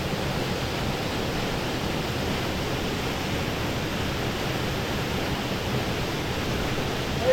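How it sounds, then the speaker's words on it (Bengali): The Bhupra waterfall in Goa roars as a dense, steady rush of falling and splashing water, loud and close throughout with no pauses. "তো আমরা নেমে গেছি এখন জলে, ভুপরা ওয়াটারফলসে।"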